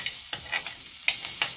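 Onions sautéing in hot oil in a pan for beetroot leaf poriyal, a soft sizzle with a few quick stirring scrapes over a short stretch.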